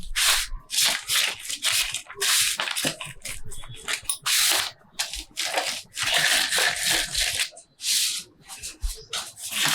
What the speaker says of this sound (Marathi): आणि अशी हलक्या हाताने कडेने पोळी लाटून घ्यायची